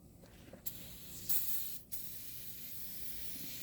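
Foaming degreaser sprayed onto the rear end of a 1992 GMC Yukon 4x4 truck, a couple of strong hissing bursts with short pauses, close and loud, then a steady softer hiss.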